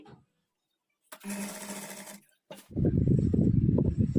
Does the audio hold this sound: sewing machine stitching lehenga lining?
yes